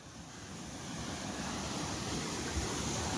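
A steady rush of falling water from a waterfall near Panchet Dam, a broad, even roar that swells slightly and continues without a break.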